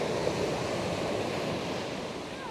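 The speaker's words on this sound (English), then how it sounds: "Get the waves crashing in for you." Ocean waves break steadily on a sandy beach at Cangas, Galicia, a continuous close roar of surf with some wind in the microphone and no talking.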